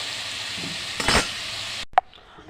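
Mushrooms frying in oil in a pan, with a constant close hiss of sizzling, one louder stirring burst near the middle, then a sudden cut to near silence and a single sharp clink.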